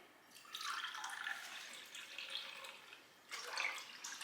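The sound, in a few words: water being poured, two cups for pickling radishes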